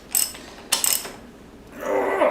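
Ratcheting wrench tightening a castle nut on a car's tie rod end, with two short bursts of clicking followed by a steadier metallic grinding, close up with no speech.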